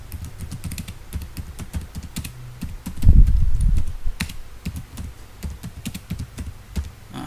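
Computer keyboard being typed on, a string of quick close clicks and taps with one heavier thump midway, no talk.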